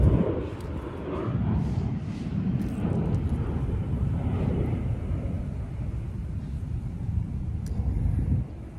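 An airplane passes overhead outdoors, a steady broad low roar that holds loud for several seconds and eases off at the end, with some wind buffeting on the microphone.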